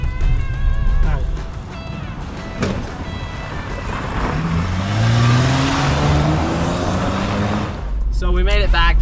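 Rally car engine revving hard while driving, loud and close, rising in pitch through gear pulls with a voice speaking over it.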